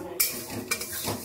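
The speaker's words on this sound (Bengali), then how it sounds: "ডালটাকে একটুখানি শুকনো খোলায় একটুখানি ভেজে নেব।" Dal dry-roasting in an empty pan for khichuri, with a few sharp spoon scrapes and clinks against the metal over a faint, soft rustle of grains.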